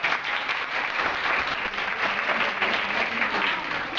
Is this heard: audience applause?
yes